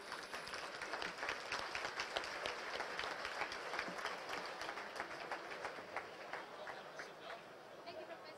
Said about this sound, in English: let's give Professor, our host, a warm round of applause